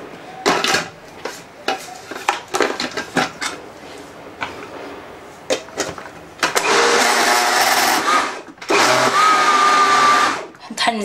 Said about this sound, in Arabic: نطحن مزيان حتى نحصل على يعني العجينه مطحونه جيدا